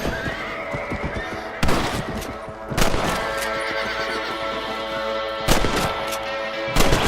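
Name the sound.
rifle shots hunting rabbits in Red Dead Redemption video game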